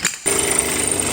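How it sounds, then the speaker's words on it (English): A power drill bores holes through a part for a small homemade amphibious boat, a loud steady whine starting abruptly after a brief pause and running on continuously, close by. "So let's go drill some holes in this thing."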